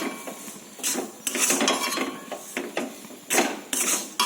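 A spoon beats malpua batter with milk in a bowl, giving irregular clinks and knocks of utensil against the bowl in quick bursts, close and fairly loud, with no voices.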